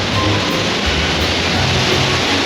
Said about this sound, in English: he wanted to film the big waves